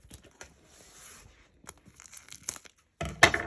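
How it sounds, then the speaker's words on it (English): Plastic wrapping is pulled off boxed party decorations and supplies in short crinkling tugs and tears close by, with quiet gaps between them, ending in a loud burst of crackling plastic. "So let me take this plastic off."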